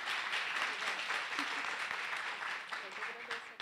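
An audience at a Porto Alegre event about children and nature applauds steadily for several seconds, a dense, even wash of many hands clapping at moderate distance.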